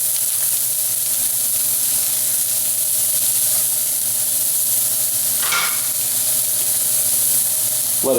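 Garlic and onion fry in a hot wok with a little salad oil, giving a steady, continuous sizzle with occasional stirring scrapes near the end.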